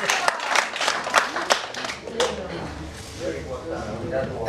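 An audience applauds at a church testimony gathering in Bila Tserkva, Ukraine, with a burst of sharp rhythmic claps that thins out and fades, while a voice talks over and after it.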